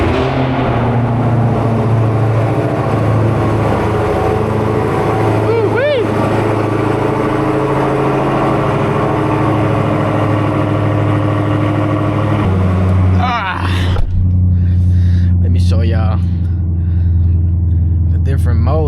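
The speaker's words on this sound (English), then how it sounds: "we will be POV driving this Porsche Cayenne. And yeah, it's a diesel car." A Porsche Cayenne diesel is driven with a steady low engine drone and road rumble. The sound dips and shifts near the end, with a voice talking over it.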